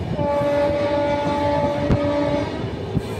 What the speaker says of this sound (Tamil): ஹாரன் சவுண்ட் நல்லா இருக்குல்ல